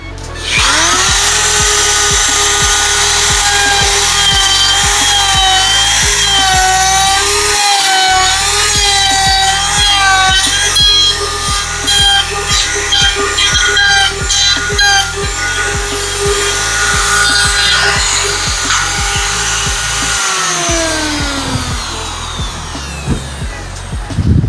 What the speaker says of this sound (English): I have a dedicated router set up with a bearing on the bottom to ride around that shape